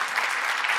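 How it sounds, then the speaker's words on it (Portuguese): Brief burst of crowd applause at a stage hypnosis show, dense and steady clapping lasting under a second. "Uma salva de palmas pra nossa vida."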